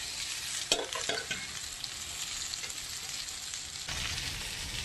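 Okra frying hard in a wok: a steady, dense sizzle and crackle with a few sharp scraping stirs, close and loud, with a fresh surge of sizzling near the end.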